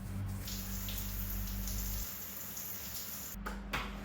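Steady rush of running water from a tap or shower during a bath, continuous and fairly close, with a brief change in flow near the end and no talking.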